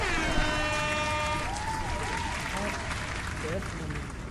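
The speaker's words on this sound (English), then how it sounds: "Can we get some claps, some all of that?" A radio show audience claps steadily for several seconds while people talk over it, and the applause fades a little toward the end.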